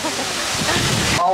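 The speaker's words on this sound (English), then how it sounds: "Passing another waterfall now." Waterfall at Milford Sound, New Zealand, heard from a boat's top deck as a loud, steady broadband rush of falling water, continuous and close, with faint voices underneath before it cuts off abruptly.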